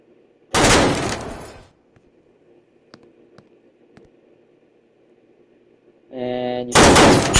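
Gunfire in a Roblox game: a long loud burst of rapid shots near the start, then quiet background with a few faint clicks, and another loud burst of shots at the end.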